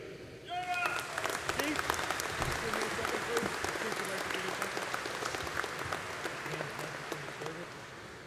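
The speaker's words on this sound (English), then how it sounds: "let's render another rousing applause for our nation's senior enlisted leaders" An audience at a military award ceremony breaks into applause after a short voice, a dense, sustained clapping from a large indoor crowd that swells quickly and then holds steady, heard from among the seated listeners.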